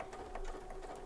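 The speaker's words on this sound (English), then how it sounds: "You sew down your line." A sewing machine stitches through paper, a steady close mechanical whir with rapid needle pulses running throughout, fairly quiet and alone.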